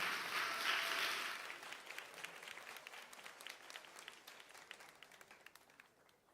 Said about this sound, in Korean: 우리 나오실 때 큰 박수로 모시겠습니다.